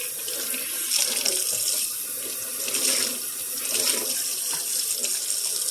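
Tap water runs into a sink while items are rinsed, a steady splashing flow with small shifts in intensity as things pass under the stream.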